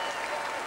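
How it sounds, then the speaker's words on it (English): Football crowd applauding a Charlton goal, a dense, continuous wash of stadium clapping and noise heard in a short burst. "Stuart Balmer takes the applause."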